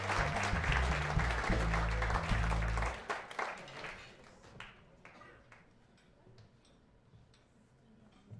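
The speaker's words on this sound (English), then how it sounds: "What happened to the clap? The five clap." Crowd clapping at a live jazz trio concert rises over the tail of the music, then thins after a few seconds into scattered, sharp individual claps that fade out.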